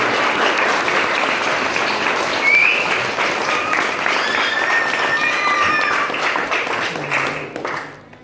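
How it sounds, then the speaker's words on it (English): Wedding guests give sustained, dense applause after a toast at a wedding breakfast, loud and steady for several seconds before tapering off at the end, with some voices and a few whistles mixed in. "Give him a nice round of applause."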